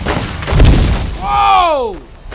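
Dynamite explosions and gunfire in The Godfather 2 video game: a loud low boom rumbles up close, then a falling whistling tone sweeps down over the fading blast, with a voice speaking.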